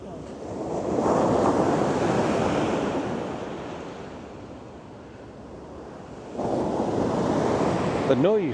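Surf rolls and breaks on Baker Beach in San Francisco. Two big surges of crashing waves rise and fade in a continuous roar, and gusts of wind rumble against the microphone.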